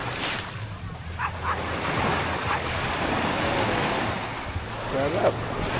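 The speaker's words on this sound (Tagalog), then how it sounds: "Yan ang dagat dito sa Zambales." Sea waves washing onto a beach in San Antonio, Zambales, a steady broadband surf wash with wind buffeting the microphone and brief faint voices over it.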